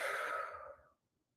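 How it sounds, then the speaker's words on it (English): One soft, close exhale of breath during a guided breathing exercise, a gentle airy rush that fades out within a second, followed by quiet. "Exhale it out."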